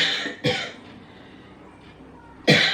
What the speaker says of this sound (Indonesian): Maaf ya, Ibu batuk.